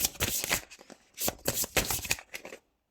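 Oracle cards are shuffled and drawn from a deck in quick riffling bursts with brief pauses between them, close and fairly quiet, with no talking.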